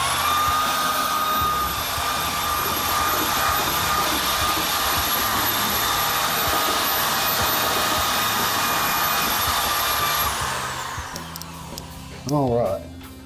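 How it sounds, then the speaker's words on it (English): A drill-driven paddle mixes drywall joint compound in a bucket, a steady loud whine with a high tone that runs for about ten seconds and then winds down, followed by brief tapping of the paddle on the bucket. "put the paddle all the way down and up before you finish mixing"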